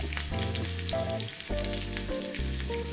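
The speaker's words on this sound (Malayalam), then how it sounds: "ഇതിലേക്ക് ചെറിയ ഉള്ളി ഇട്ട് കൊടുക്കാം" Small onions frying in a small pan of popped mustard seeds, cooked for an okra theeyal curry, give a steady, close sizzle over a tonal, music-like background.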